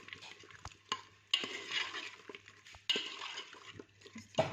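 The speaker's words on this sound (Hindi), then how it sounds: "2 से 3 मिनट तक जो है वो हम आलू को अच्छे से मसाले में जो है वो भूनेंगे।" Potatoes stirred and fried in masala for aloo baingan, a steady close sizzle with scraping spoon strokes and occasional sharp clinks against the pan.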